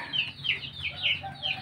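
Pelung chickens on a farm in Cianjur, West Java, Indonesia, letting out a run of bright, repeated clucking calls roughly every half second, close and fairly loud over a low rumbling background.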